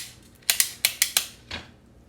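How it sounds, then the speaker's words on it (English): A vintage hand tool's chain ratchet mechanism clicks as it is worked, giving six sharp, close metallic ticks in an uneven rhythm over about a second. Nothing else is heard. "It's got like a chain ratcheting system in there."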